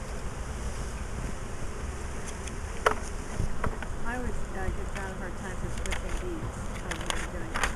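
Honeybees buzzing around an open hive during summer beekeeping in Ohio, a steady, soft insect drone close by with outdoor wind noise, a brief sharp knock near the middle.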